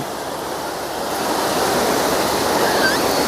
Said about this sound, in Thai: เป็นทะเลครับชายหาด